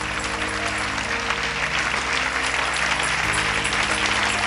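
Members of a church congregation applaud during a pastor's sermon, with steady, dense clapping over a low sustained musical hum from instruments or an organ.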